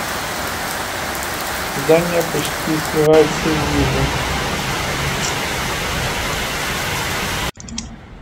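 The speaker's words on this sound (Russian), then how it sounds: "чтобы вы услышали, как шум дождя превращается в грохот водопада" A heavy, dense downpour in Batumi, Georgia roars continuously like a waterfall, with a brief spoken phrase underneath before the rain cuts off abruptly near the end.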